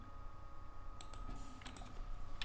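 Typing on a computer keyboard, a few faint scattered key clicks over a low steady hum, quiet and close.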